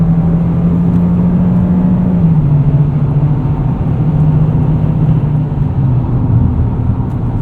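A GMC Terrain AT4 with a 1.5-liter turbo engine and 8-speed automatic, heard from inside as a steady low engine drone that rises in pitch, drops at a shift and climbs again under acceleration, with no talking.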